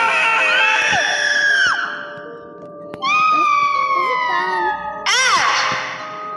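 In a game, a scream sound effect gives three loud, shrill, wavering cries, each falling in pitch and separated by short pauses, with the last one sharper and more abrupt.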